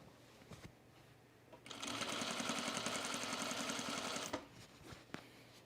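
A sewing machine stitches through polar fleece and jersey fabric, a steady rapid mechanical whirr lasting a few seconds, close by, framed by quieter handling clicks before and after.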